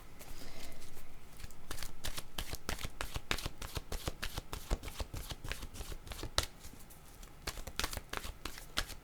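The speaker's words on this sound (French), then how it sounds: "j'étais pour échapper toutes mes cartes." Playing cards are handled and shuffled up close, a fast run of crisp riffling snaps and flicks that continues almost without pause.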